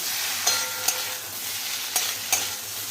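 Boiled taro pieces stirred in a frying pan, a steady close sizzle with four sharp scrapes of the spatula against the pan spread across the stretch.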